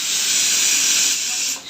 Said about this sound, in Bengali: এখানে দিয়ে নাড়াচাড়া করে নিচ্ছি।